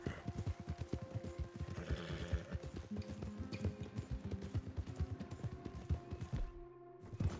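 Horse hooves clop at a steady galloping rhythm in Red Dead Redemption 2, a dense run of quiet, even beats that continues throughout, with a possible whinny mixed in low under the game sound.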